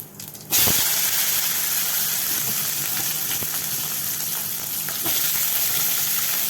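Bitter gourd and cumin fry in a hot, dry pan, starting with a sudden loud, steady sizzle and hiss that keeps going with small crackles, close and without any talk.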